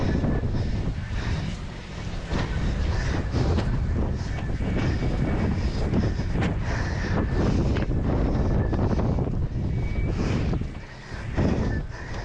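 Strong wind buffets the microphone while paddling a 5.5 outrigger canoe on a rough ocean swell, a loud continuous roar with gusting surges and no talk.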